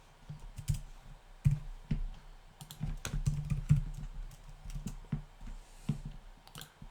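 Rapid computer keyboard typing of a name and email address into a web form, a steady run of close, crisp key clicks with brief pauses and no talking.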